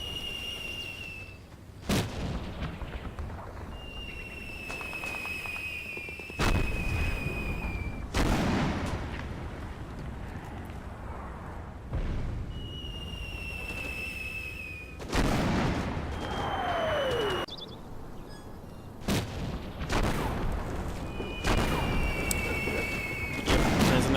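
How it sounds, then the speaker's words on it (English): Heavy 120mm mortar rounds landing in Combat Mission: Battle for Normandy, a string of loud booming impacts every few seconds amid gunfire, with whistling incoming shells and a falling whine. "Another one of those big 120mm mortars."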